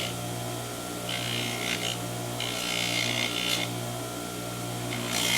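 Metal being scuffed by a power tool to strip its coating before buffing, a steady whirring drone with gritty rubbing surges that rise and fall every second or so, fairly faint and continuous.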